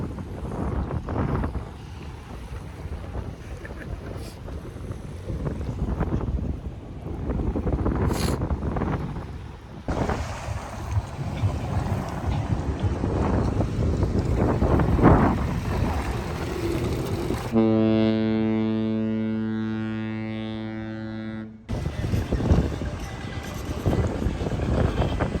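Jet ski ride on open water off Fort Lauderdale, with rushing spray, hull slapping and heavy wind buffeting the microphone. A steady engine drone holds under the noise, with a brief clean tonal stretch near the end, and no talk.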